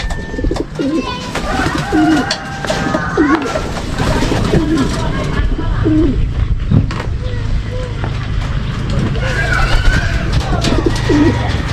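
Racing pigeons coo repeatedly at a loft during a summer derby race in San Fernando, La Union, with low rumbling calls recurring throughout amid background noise, while people talk nearby.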